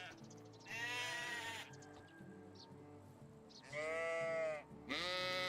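Sheep bleat in the video game Medieval Dynasty, with three loud, wavering calls from nearby. Soft game ambience fills the gaps between them, and no one speaks.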